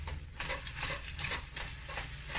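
Scrambled eggs being folded in a pan, with a spatula scraping the bottom in repeated strokes over a steady low sizzle, close and fairly quiet, with no talking.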